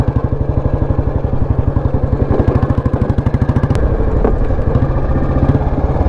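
A restored 2004 Royal Enfield Bullet Standard motorcycle engine runs close and loud with a fast, even thumping beat that shifts and roughens slightly toward the end.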